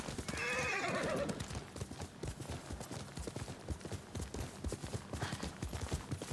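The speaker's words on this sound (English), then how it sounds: "All right, where's my horsey?" A horse in the video game Ghost of Tsushima whinnies at the start and again near the end, while steady clip-clop hoofbeats trot along underneath throughout.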